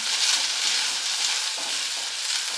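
Chopped medium onions sizzling and frying in hot oil with garlic and dried chillies for a Tamil dinner dish, a steady, dense hiss with faint stirring scrapes, close and alone without speech.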